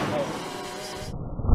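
A single AK-47 shot is fired into iPhones outdoors, landing as one sudden, loud, low blast at the very end after a quieter stretch.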